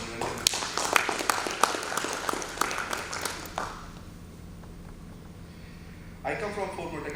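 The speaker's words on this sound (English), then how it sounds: "So big hand of applause to Mr. Niranjan." A conference audience at a manufacturing summit gives a round of applause for a guest from Ford Motor Company. Scattered, moderately loud claps fade out after a few seconds into near quiet, then a voice begins speaking.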